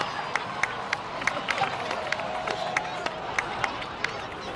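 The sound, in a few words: crowd applause in a video game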